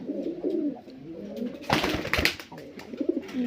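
Pigeons in a pigeon loft coo in low, rolling throaty phrases, close by, with a brief flutter of wing noise in the middle.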